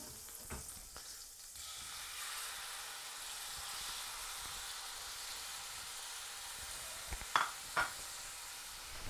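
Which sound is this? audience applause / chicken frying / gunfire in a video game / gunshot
chicken frying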